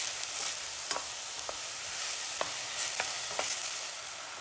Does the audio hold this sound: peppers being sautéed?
yes